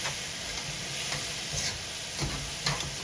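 Leftover stir fry with corn and a little honey being stirred and tossed in a hot pan, a steady soft sizzle broken by several scraping stir strokes, close and alone with no talking.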